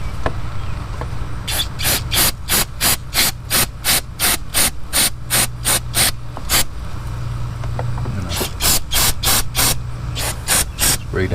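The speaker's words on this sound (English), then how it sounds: "Using some of this SuperTech brake parts cleaner." Repeated short bursts of SuperTech brake parts cleaner aerosol hissing close to the microphone, a quick series, a pause, then another run, over a low engine idle of a 2006 Nissan Altima.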